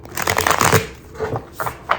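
Tarot cards being shuffled by hand in quick, close riffling bursts, loud and crisp, with a short pause before a few final flicks.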